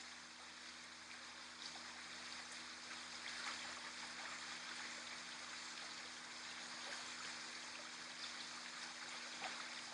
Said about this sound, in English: You listen to the water moving itself from one rock pool into the next.